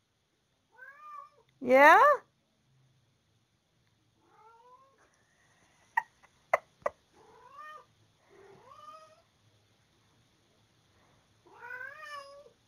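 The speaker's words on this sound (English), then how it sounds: "Hear my cat?" A pet cat meows several times indoors, with one loud, drawn-out meow near the start and softer ones spread through the clip, between a few sharp knocks and brief household talk.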